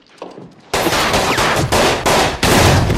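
Rapid automatic gunfire and overlapping shots from the final shootout of the film The Way of the Gun erupt loudly after a quieter opening, continuing in dense bursts with brief pauses between volleys.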